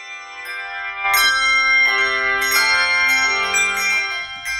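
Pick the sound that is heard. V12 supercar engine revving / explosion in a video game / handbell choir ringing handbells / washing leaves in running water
handbell choir ringing handbells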